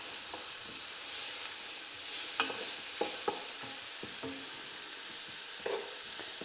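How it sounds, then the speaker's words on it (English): Leek frying gently in a pan, a steady hiss of sizzling under irregular spoon scrapes and light taps, close and moderately quiet, no talking. "And as you cook it, that leek will break up. We're just giving it a little bit of a fry"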